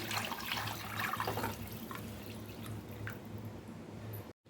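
Water pours steadily into a pot to make mushroom soup, about ten cups' worth, as a soft continuous splashing trickle heard close up that ends abruptly.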